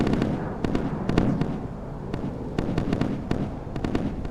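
A naval flak barrier fires during missile-age sea combat in Sea Power, a rapid uneven string of sharp cracking bursts over a rumbling background, loud and continuous.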